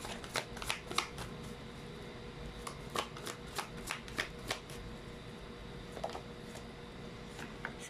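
Tarot cards are shuffled by hand, giving a quiet, steady stream of papery riffles and soft taps that repeat close up with no one speaking.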